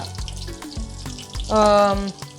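Garlic fries in oil in a pot with a close, crackling sizzle punctuated by thumps and clanks of utensils, plus a brief tonal ringing in the middle.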